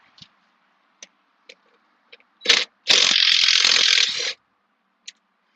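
A ratchet loosens the seat hinge bolts on a Jeep Cherokee XJ, giving a few isolated clicks, then a short burst of rapid ratcheting and a longer continuous run of clicking, close and loud, with a last single click afterward.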